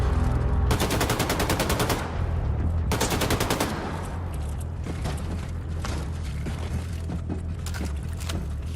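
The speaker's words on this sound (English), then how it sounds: "So there were 2 explosions." Two loud explosions in the shooter game Wolfenstein II: The New Colossus, each a dense, full-range burst lasting over a second, followed by sharp gunfire cracks and mechanical clatter over a steady low rumble.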